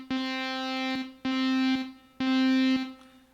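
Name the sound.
synth through amp with spring reverb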